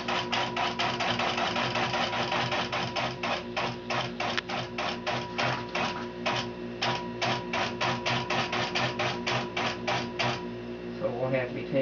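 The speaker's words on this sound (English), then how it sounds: "Now I run my basting line so that it'll be inside the binding when the thing is done." A longarm quilting machine runs a basting line along a quilt, a rapid rhythmic clatter of stitching in quick bursts with short pauses that stops near the end, while a person talks over it.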